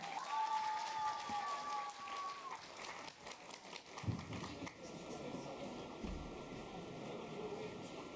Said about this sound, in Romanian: Să aplaudăm a treia pereche, Ana Rusu și Matei Socoleanu!